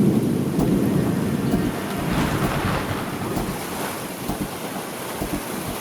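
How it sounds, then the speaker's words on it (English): Approaching thunderstorm in the jungle: close rumbles of thunder rolling over a steady hiss of heavy rain, loud at first and easing slightly, with no voices. "the looming threat of a thunderstorm coming is really intimidating"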